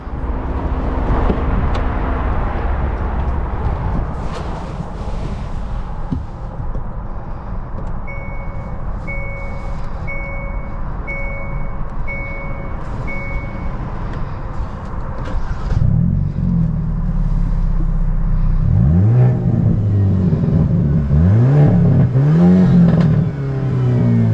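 A 2022 Hyundai Elantra N in cyber gray idles with a steady engine drone and a repeating chime, then its engine revs loudly, sweeping up and down through several hard accelerations close by.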